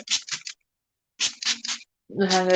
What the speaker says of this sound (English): Just the hydrating spray to settle the powder into the face